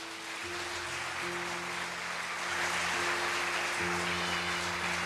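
A church congregation applauds during a worship service, a fairly quiet, continuous rain-like patter of clapping lasting throughout, with sustained organ or keyboard chords sounding underneath and shifting partway through.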